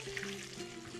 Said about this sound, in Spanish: vamos a poner el pollo a que se vaya friendo.